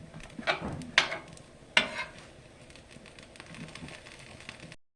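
A hashbrown omelet with melting cheese cooks in a pan, giving off a soft, steady sizzle. A few sharper scraping or clinking knocks of a utensil against the pan stand out near the start, and then the sizzle settles down and carries on alone.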